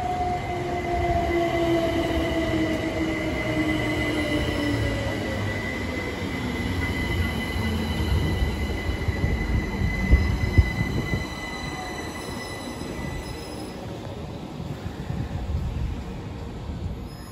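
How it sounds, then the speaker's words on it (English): Southern Class 377 electric train passing through Harrow and Wealdstone station: a steady, close rolling roar of wheels on rails with squealing and whining tones lasting the whole time, and no talking. "Southern service from Hemel Hempstead to East Croydon. 377706."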